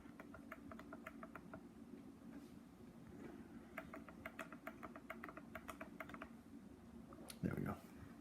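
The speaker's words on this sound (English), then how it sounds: "then we type it into our calculator" Calculator keys pressed to work a quadratic formula problem: quick runs of small clicky taps in bursts, faint under a steady background hum, with a brief louder bump near the end.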